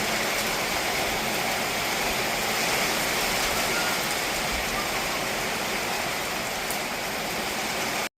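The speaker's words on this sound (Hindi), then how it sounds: "बहुत तेज वाली बारिश हो रही है" Dense, steady downpour hisses without pause, loud and close, a heavy rain that fills the whole clip.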